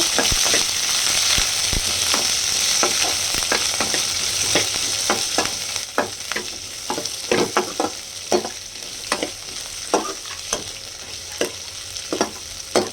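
Small onions sautéing in a pan on a stove for goat head curry, a loud continuous sizzle broken by repeated scraping stir strokes, close and with no talk.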